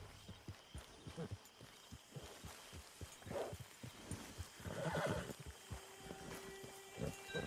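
A horse whinnies over a steady rhythm of hoofbeats clip-clopping close by, with a few snorts mixed in, in the video game Red Dead Online.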